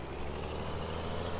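A truck engine in the Farming Simulator 2017 video game runs as a steady, even drone with a broad rumbling tone and no variation over a brief stretch.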